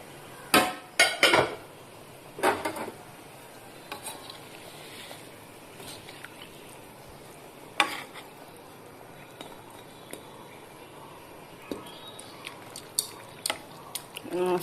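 In a home kitchen, fish goes into a bubbling curry and gets stirred. Sharp clanks of a metal spoon against the pot come in scattered clusters over a quiet simmering background, loudest near the start.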